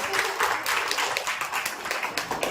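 An audience at a religious study gathering claps in applause, a dense, fairly loud patter of many hands that holds steady throughout.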